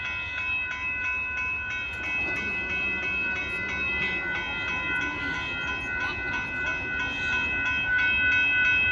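Southbound Amtrak Texas Eagle 21 passenger train passing a road crossing in Austin, Texas, a steady rumble with sustained horn tones sounding over it at moderate distance.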